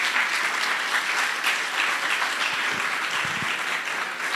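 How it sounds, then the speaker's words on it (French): An audience claps steadily for the children at a tribute and recognition ceremony, producing a dense, continuous wash of applause that holds at an even level throughout, with no voices standing out. "Un applaudissement pour les enfants qui sont là,"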